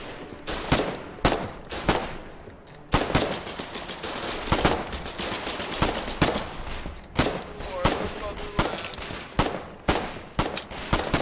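Dense automatic and rifle gunfire from a Colonial Marines video game firefight, with rapid bursts and sharp single shots cracking close and loud throughout, under faint voices.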